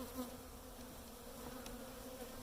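A steady, low hum of many honeybees buzzing together in an open hive, close and continuous, with no voices.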